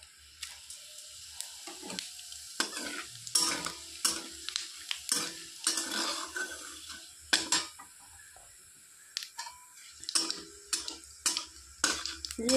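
Whole cumin seeds fry in hot oil, giving scattered sharp crackles and pops over a faint sizzle, intermittent and close, with quieter gaps between bursts.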